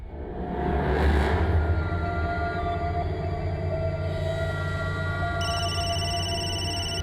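A telephone rings during a party, a steady electronic ringing tone that holds at an even level for several seconds with no talking over it.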